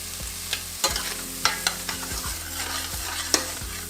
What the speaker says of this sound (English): we're going to put in the garlic and the carrot together. And just stir fry up this about a few minutes.